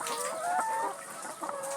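Several laying hens with a snoring respiratory illness keep up a steady, overlapping clucking. The calls are close and fairly loud, with murmuring flock sounds between them and no voices.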